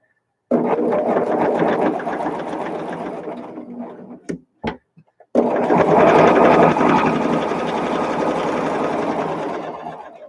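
A sewing machine stitches a quilt in loud, close, steady mechanical runs with a rapid needle rhythm, pausing briefly midway with a few light clicks before resuming.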